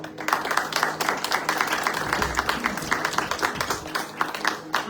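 A church congregation applauding during worship, giving continuous dense clapping from a crowd in a hall that stays steady throughout.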